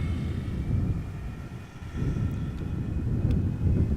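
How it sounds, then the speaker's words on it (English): EasyJet Airbus A319 departs Amsterdam Schiphol, heard as a distant, steady low jet rumble mixed with wind buffeting on the microphone. "EasyJet, flight 27937. Airbus A319 outbound to Copenhagen in Denmark."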